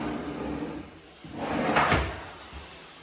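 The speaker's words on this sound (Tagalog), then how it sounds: "Laking drawer. Soft close." A large soft-close drawer in a newly built closet slides shut, a smooth rolling rush that swells and eases to a gentle stop, with a soft thud at the end, alone and close.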